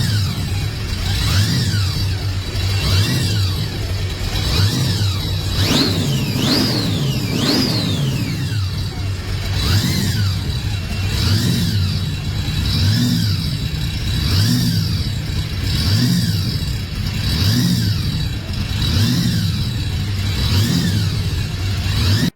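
A 1951 Chevrolet Deluxe gasser with a freshly rebuilt 502 big block V8 revs loudly and up close, repeatedly climbing and falling in pitch throughout with no pause and no voices.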